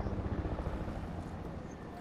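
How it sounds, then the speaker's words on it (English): Helicopter rotor in the Fortnite video game, a steady close chopping drone running throughout under players' voices. "Skull, come on my chopper."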